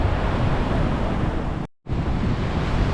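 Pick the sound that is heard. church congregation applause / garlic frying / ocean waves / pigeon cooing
ocean waves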